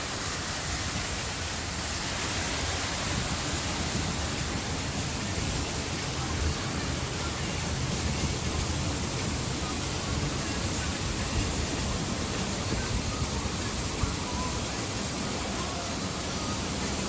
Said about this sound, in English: Here's the children's water park.